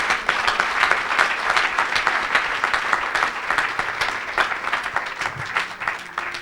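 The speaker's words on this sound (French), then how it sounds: "Acclamez le Seigneur." A church congregation at an evangelistic mission service applauds, a dense, steady wash of clapping at moderate loudness that carries on for several seconds without talk.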